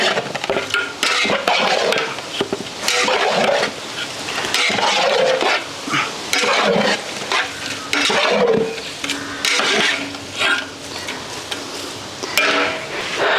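Fish pickle masala being mixed by hand with salt and vinegar, giving close, busy wet squelching and scraping against a bowl, steady and fairly loud with no talk.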